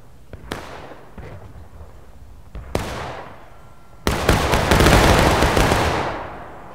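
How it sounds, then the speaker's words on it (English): Musket volleys crack out in a Civil War line-battle game, a few scattered sharp shots first, then a second ragged volley, then a dense rolling fusillade of many rifles firing together, loud and echoing, with no talk. "That was a good shot. I saw a few people get hit."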